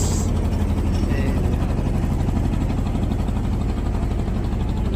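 A trawler boat's engine chugging on the Turag river, a loud, close, steady low throb with a continuous rumble and no pauses.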